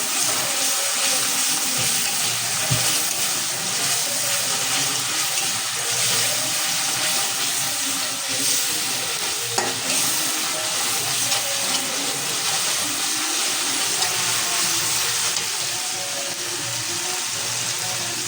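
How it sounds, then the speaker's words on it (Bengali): Pitha fries in hot oil at home, a loud, continuous hissing bubble that stays steady and close for the whole stretch with no talking. "এখন এটা কিছু টাইম ভাজবে, ভেজে নিবে ভালো করে।"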